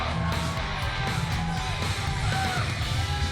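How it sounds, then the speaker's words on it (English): A dense wrestling crowd yells, whoops and cheers in a big ovation for Billy Gunn at a Rhodes Wrestling Association Fall Fury event, a steady loud roar of many voices with no break. "Listen to this crowd, the ovation for Billy Gunn."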